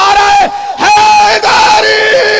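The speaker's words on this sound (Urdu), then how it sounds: "جو علی پہ ایمان لاتا ہے ہاتھ بلند کر کے نعرہ" A large crowd at a Shia majlis gathering roars a religious slogan in unison, loud, close and sustained across the whole moment with a couple of brief dips between shouted bursts.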